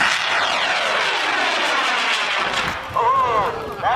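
A model rocket with an I-140 motor launches from a large saucer. A loud, sustained roaring hiss of the motor burn passes with a falling pitch sweep, and voices are heard outdoors near the end.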